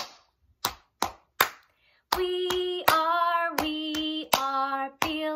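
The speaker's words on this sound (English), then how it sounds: "we're going to do a tap, tap, clap. So you tap on your lap like this." Close, sharp lap taps and hand claps in a steady tap-tap-clap pattern from a school music lesson, first alone, then continuing under a sustained tune of sung or played notes.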